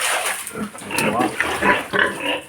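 A domestic pig grunts and squeals repeatedly at feeding time, loud and close, in short bursts with no talking.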